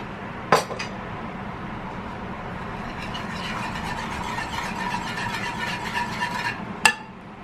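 Coconut milk with sugar stirred in a pot for Thai mango sticky rice: a utensil scrapes and swirls in a steady rhythm, with sharp metallic clinks against the pan at the start and end.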